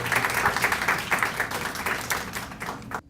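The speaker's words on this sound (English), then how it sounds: "A round of applause for our panelists for being brave enough to come up here today." Audience applause at an education panel, a steady dense clapping that carries on evenly for about three seconds and then cuts off abruptly.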